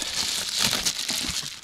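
A plastic bag crinkles and rustles continuously inside an olive barrel cooler packed in insulation for canoe tripping, close and steady with no pauses or speech.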